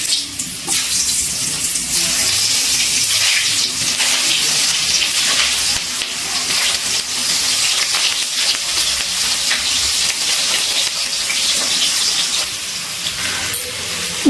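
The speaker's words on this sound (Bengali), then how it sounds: "এবারে এই একই তেলের মধ্যে সিদ্ধ করা এঁচোড়টা একটুখানি ভেজে নিচ্ছি।" Boiled jackfruit frying in oil in a pan on a gas flame: a loud, steady, hissing sizzle that carries on unbroken throughout, with no voices.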